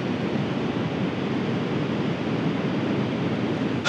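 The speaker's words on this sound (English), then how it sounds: "You know, I could watch those waves all day" Big winter sea waves crash against the harbour wall at Dunbar, a loud, steady roar of surf and spray with wind noise, unbroken across the whole stretch.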